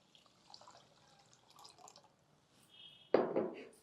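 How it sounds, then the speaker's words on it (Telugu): Water is poured over rice in a pressure cooker, two glasses for each one of rice: faint drips first, then a short, close splashing pour at the end. "1కి 2 గ్లాసులు నీళ్ళు పోసేద్దాము."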